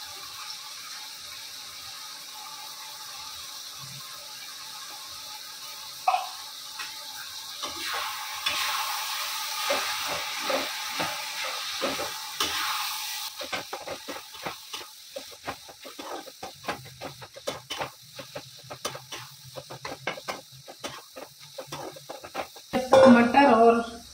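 Red chili and asafoetida fry in hot oil in a pan for matar paneer. An early hiss gives way to a long run of popping, sputtering crackles that thin out over time, ending in a brief louder clatter.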